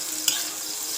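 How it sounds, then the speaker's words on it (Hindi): Chicken and boiled rice frying together in a pan for a homemade chicken dish, a steady close sizzling hiss with a brief scrape of stirring near the start, no voices. "अभी के लिए मैं थोड़ा फ्राई कर लेती हूँ"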